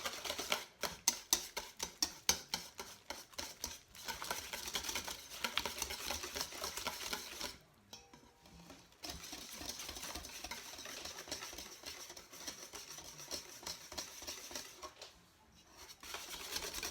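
A whisk beats lumpy banana bread batter in a bowl with fast, steady rhythmic tapping and scraping, pausing briefly twice before starting again, close and fairly quiet.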